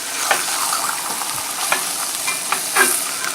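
Bologna slices fry in a pan with a little extra grease, giving a steady close crackling sizzle with occasional brighter pops and spatula scrapes, and no voices.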